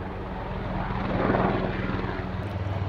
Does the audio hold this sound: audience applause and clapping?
no